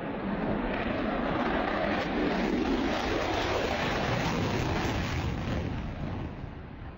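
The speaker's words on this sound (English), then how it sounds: "This Blue Angel pilot performs an incredibly low pass." A Blue Angels jet roars past in an incredibly low pass, a loud broad rushing engine blast that holds steady throughout and fades slightly at the end.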